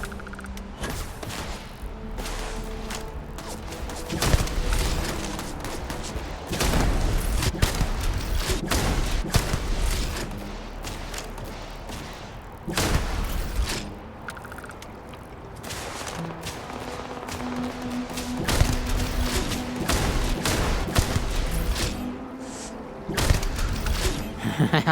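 Gunfire in the space shooter game Starfield rattles in repeated bursts and heavy thumps over a busy, layered soundscape, loud and near for most of the stretch with brief lulls between volleys.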